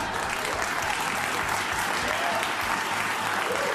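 A comedy club audience applauds a comedian mid-joke, dense steady clapping filling the room at constant loudness from start to finish with no pause.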